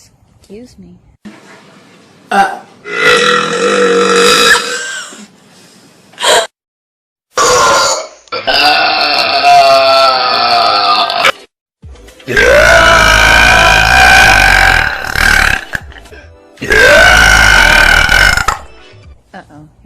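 A girl lets out a series of loud, long, croaky belches, four big ones spread across the stretch, with brief pauses and short bits of her talking between them.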